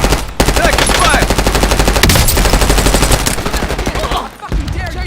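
Gunfire in the shooter game Warzone, close and very loud rapid automatic bursts rattling almost nonstop for several seconds before a brief lull.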